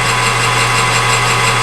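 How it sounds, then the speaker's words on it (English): A drill running a number 7 bit bores fairly deep, running continuously with a steady motorized whine and low hum, close and loud, with no pause. "I'm gonna drill it fairly deep."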